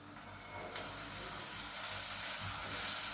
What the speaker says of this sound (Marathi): आता आपण त्यात चिरलेला कोबी टाकायचा आहे